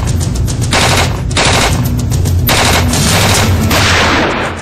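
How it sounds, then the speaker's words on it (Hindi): A long, loud burst of rapid machine gun fire from a BSF border special squad rattles continuously with repeated dense volleys, close and harsh, with no voices. "बीएसएफ गोलियां बरसाएगा।"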